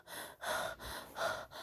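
Heavy breathing and panting from people moving through hallways, in rhythmic gasping breaths that are faint and close.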